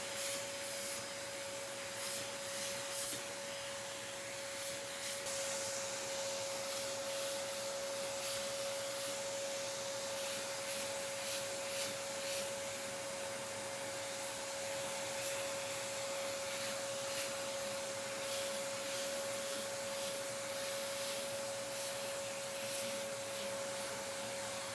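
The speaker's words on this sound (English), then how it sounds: "I'll just take a vacuum to it and just get the dirt off." A vacuum cleaner draws dirt out of an old Windows Vista PC, giving a steady, unbroken whine with a constant tone and airy hiss, heard alone for the whole stretch.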